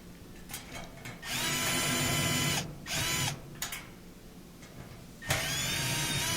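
A power drill drives screws into the metal plate of a gas dryer during a repair, several loud whirring bursts of a second or two each separated by short pauses, close up.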